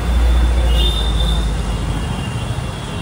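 Delhi Metro train passing near a main road of shops, a loud steady rumble with a faint high squeal, heard amid traffic noise.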